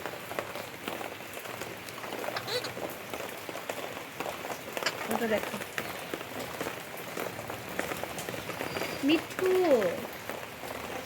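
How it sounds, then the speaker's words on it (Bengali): Steady rain patters on a balcony, a dense, continuous wash of drops close by with scattered sharper taps, while a voice talks over it now and then. "বৃষ্টি কিন্তু পড়ছে"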